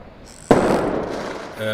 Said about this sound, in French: Des coups de canon du galion sur lequel on se trouve qui tire.